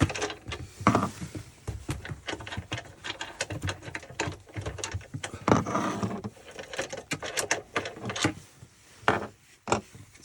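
Bolts being undone on swivel seat mounts, giving a dense run of close, irregular metallic clicks, ratcheting and rubbing knocks with no talking.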